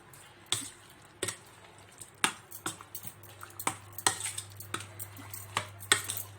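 Breaded chicken pieces tossed in marinade with a utensil in a bowl, giving a steady run of sharp clicks and taps about twice a second, close and clear over a low hum.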